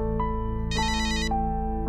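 An incoming call sets off a mobile phone ringtone, a bright electronic melody of sustained tones with a dense burst in the middle, loud and close, with no voices.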